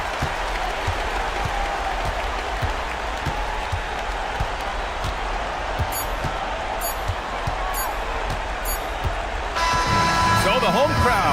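In a basketball video game, a home crowd roar and applause fill an arena as a steady wash, while sneakers squeak and a ball bounces repeatedly underneath and commentators talk throughout.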